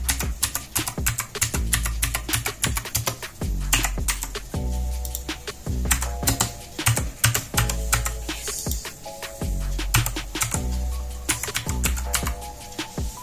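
Rapid, clicky typing on a Cooler Master CK530 V2 mechanical keyboard with blue switches, close and loud, with dense keystroke bursts and brief pauses and no talking.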